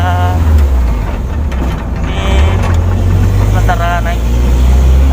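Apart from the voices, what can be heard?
car engine heard from inside a moving car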